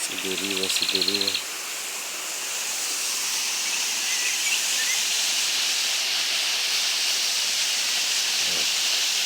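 A river near Narok town flows with a steady, close broadband rush that continues for nearly the whole stretch. Brief tonal voice-like sounds appear at the very start.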